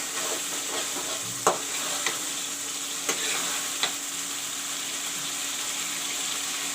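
Masala frying in a pan for fish curry, a steady soft sizzle with a few sharp stirring clicks and taps against the pan at intervals.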